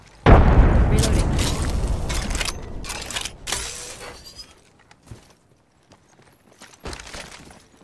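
A frag grenade goes off in a shooter video game with a sudden loud, heavy blast that rumbles and crackles for a few seconds before fading, followed by a few scattered sharp clanks and thuds.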